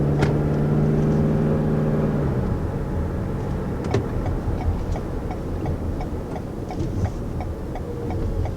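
Inside a 2019 Toyota RAV4 Hybrid on the road, a steady low hum of driving and road noise fills the cabin, with faint rhythmic ticking over it.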